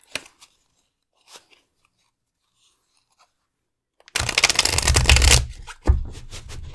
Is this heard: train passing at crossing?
no